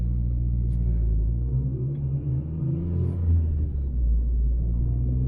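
Honda Civic with a swapped K24 engine driving: a steady, low engine rumble heard from inside the car, holding a fairly even drone with slight swells, with no talking.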